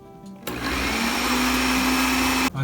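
A kitchen blender grinding oats into fine oat flour starts after a brief lower hum, then roars in a loud, steady, high-pitched whir for two seconds before cutting out abruptly.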